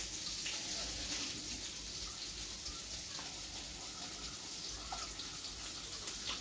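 Water pours steadily into a dough mix in a home kitchen, a faint continuous trickling stream lasting the whole stretch without a break.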